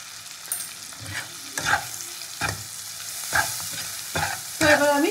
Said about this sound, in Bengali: এবার ভালো করে তেলের ওপর এটাকে কষিয়ে নেবো